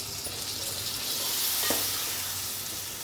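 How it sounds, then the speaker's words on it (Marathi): Spicy masala frying in a pan, a loud, bright, continuous sizzle up close with one brief stir partway through. "हे सगळं आपण भाजून घेऊया."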